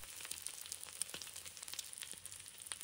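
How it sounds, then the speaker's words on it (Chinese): Beaten egg frying in hot oil in a pan over medium heat, a quiet steady sizzle with small crackles and pops, close and alone. "单手顺势将蛋液滑入锅中"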